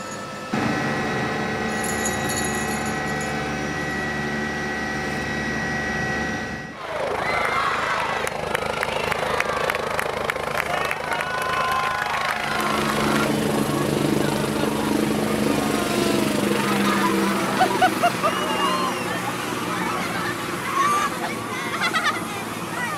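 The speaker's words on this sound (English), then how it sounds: "We are ready to take off in our Stars Air Ambulance helicopter." A Stars Air Ambulance helicopter taking off on a Christmas test flight: a steady high turbine whine gives way to a loud, broad rotor roar that builds and holds, with faint voices underneath.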